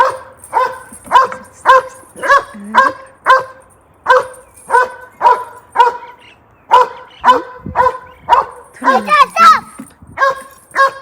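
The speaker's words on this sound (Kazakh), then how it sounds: "Жаңа баласын сол жақта көріп біздің ит үріп жатыр бұл қоянға." A dog barks at a rabbit repeatedly in a steady, rapid rhythm, loud and close, with a few higher yips and whines mixed in near the end.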